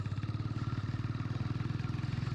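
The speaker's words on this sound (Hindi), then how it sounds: "दूसरा गियर मेरी गाड़ी का ख़राब है, इसलिए खचर खचर करती है" Old Hero Honda Splendor Plus motorcycle, about 27 years old, with a faulty second gear, running with a steady fast rhythmic clatter and engine pulsing, close and continuous with no talk.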